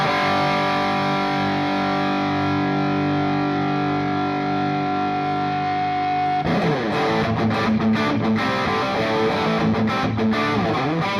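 Soldano Jet City 20 amplifier driven at cranked high gain through a WGS Retro 30 speaker: a long sustained distorted chord rings out, then gives way to busy, chugging riffs with sharp palm-muted stops, loud and close, with no talking.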